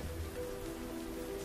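Rain falls on a surface on a farm in a steady, soft patter, faint and even over a short stretch, with a low hum underneath and no speech.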